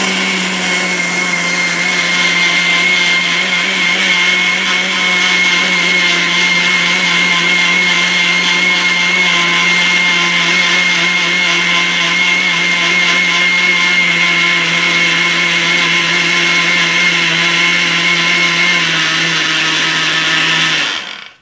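A mixer grinder grinds dry rice into flour, a loud, steady electric motor whine with a constant hum running unbroken for about twenty seconds before cutting off at the end.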